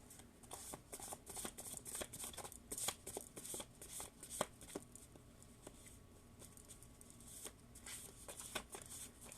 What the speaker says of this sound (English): I really gotta shuffle these good, because they are so hard to shuffle.